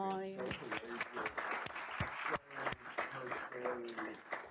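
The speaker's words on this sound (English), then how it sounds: "can we give a round of applause to Fátima?" Conference audience breaks into applause at a panel, a dense burst of clapping that swells and then tapers, with voices talking over it as it fades.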